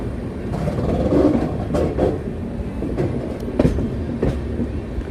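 The Saraighat Express train runs on from New Bongaigaon Junction toward Malda Town, giving a steady close rumble of wheels and carriages with scattered sharp clicks and clunks throughout and no voices.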